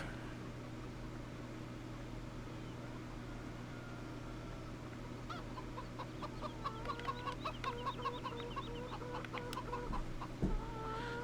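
Chickens clucking at a coop in Farming Simulator 17, a run of short repeated clucks rising over a steady low hum and ambient drone, moderately close.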